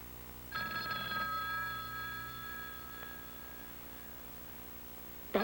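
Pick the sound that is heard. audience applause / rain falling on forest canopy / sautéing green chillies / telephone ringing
telephone ringing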